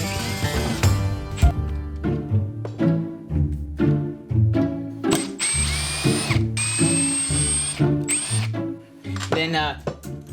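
A power drill driving 2.5-inch screws into pilot holes in a wooden coffee table frame, with repeated close bursts of motor whir and ratcheting clutch clicks separated by brief pauses.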